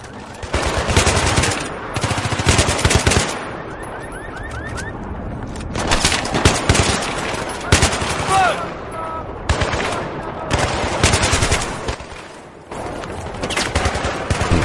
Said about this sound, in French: la K47 c'est quand même une arme hyper balèze